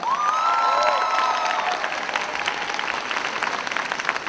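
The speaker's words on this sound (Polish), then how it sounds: "Brawa!" Audience applause at a ballroom dance tournament show, a steady dense clapping crowd filling the hall for several seconds, with a brief whistle-like tone early on and no speech over it.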